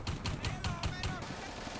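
Rapid autocannon bursts from a half-track in the WWII strategy game Combat Mission, about six evenly spaced heavy thumps in a quick rhythm, then a fading rumble of battle ambience.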